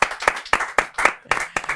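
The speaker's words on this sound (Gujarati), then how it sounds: "એક વખત જોરદાર તાળીઓ" Audience applause breaks out for a guest at a live Gujarati podcast, coming as several short, uneven bursts of clapping with no speech over it.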